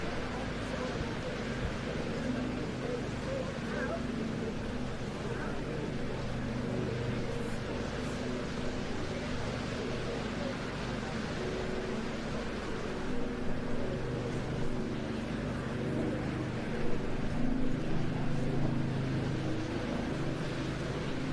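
The 1,065 horsepower Pratt & Whitney radial engine of a Saab B17A warplane drones steadily at an air display, a rough, continuous roar that swells slightly toward the end.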